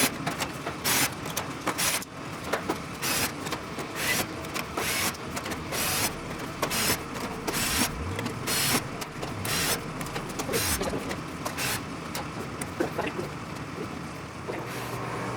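A handheld drill makes repeated short whirring bursts, upsizing rivet holes from number 40 to 1/8 inch in an aircraft boot cowl panel, close and busy, with brief pauses between holes.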